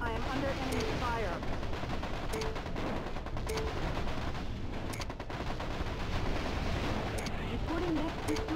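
Sustained gunfire in the mech combat game MechCommander Gold, dense bursts and impacts in a busy battle mix with radio chatter-like voices over it.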